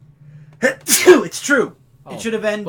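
A single loud, close sneeze bursts out between bits of a person's speech.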